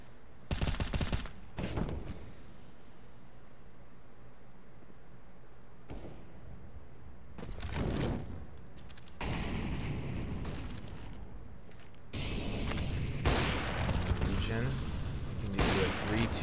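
Counter-Strike match gunfire comes in several short bursts of rapid shots separated by quiet gaps, fairly loud and close, with a longer heavy volley near the end.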